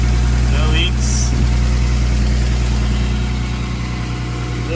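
A BMW E36 engine idles steadily nearby with a low, even hum and a faint rise toward the end, and there are small clinks in the background.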